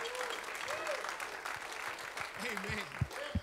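A church congregation gives a round of hand-clap praise, steady applause heard at moderate distance while voices speak and call out over it.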